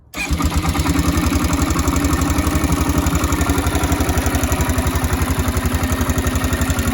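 An engine turns over and catches, then settles into a loud, steady rhythmic idle with a fast even chugging pulse, close by.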